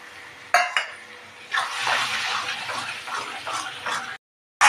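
A spoon stirs bottle gourd and shrimp curry in a pan just after flour is sprinkled in, scraping and clattering in close, irregular strokes with a soft wet sizzle underneath.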